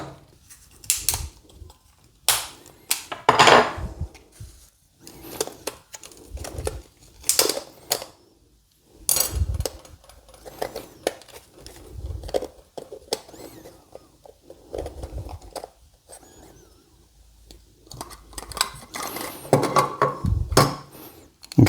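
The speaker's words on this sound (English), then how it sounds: "So what I'm going to do is cut this and then see if I can just separate it and pull it off." Plastic casing of a Popeye boost gauge for an Alto Works being cut and pried apart, giving irregular sharp clicks, snaps and scraping bursts up close, with pauses between efforts.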